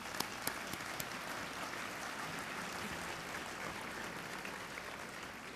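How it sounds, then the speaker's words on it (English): An audience at an ARCS Foundation Seattle chapter gathering applauds the scholars, a dense, even wash of clapping from a large room with a few sharper claps at the start. "I would like us to give them a round of applause."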